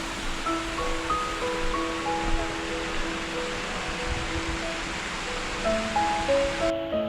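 A steady, moderate rush of mountain stream water near Ssangyong waterfall in Seoraksan, a continuous broadband wash with faint tonal chirps or distant sounds drifting over it.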